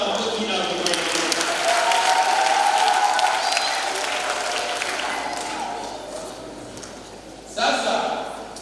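Applause with festive ululation from a church congregation at a first communion event in Kijenge parish, Arusha, a steady broadband crowd wash lasting several seconds, with a fresh swell of clapping near the end.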